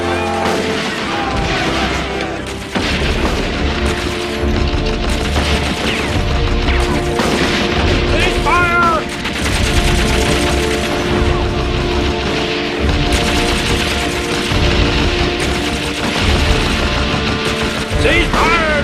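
Guns fire in a battle, with a rapid jumble of shots, booms and mechanical clatter going on loudly for the whole stretch and only brief lulls between bursts.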